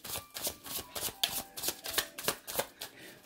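Tarot cards being shuffled in rapid riffling bursts, a dense run of crisp papery flutters repeating roughly every third of a second, close and fairly quiet with no talking.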